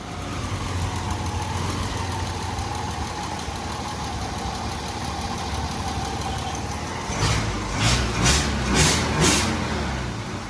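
A 1966 Ford Mustang engine idles steadily nearby with an uneven, slightly knocking rhythm, then revs in a few short bursts toward the end.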